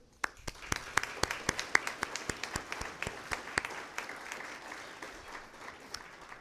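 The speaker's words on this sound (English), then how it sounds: "let's give an applause to the World Logistics Center for this project" Scattered applause at a State of the City address, a sparse crowd clapping with individual sharp claps standing out clearly over a softer wash, fading gently toward the end.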